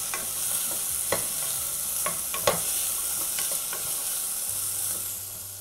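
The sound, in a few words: beans, carrot, peas, green chilli sautéing in a pan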